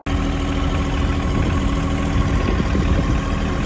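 A farm tractor's engine idles close by in a steady, continuous low rumble with a slight vibrating texture. It holds an even level throughout and no one speaks.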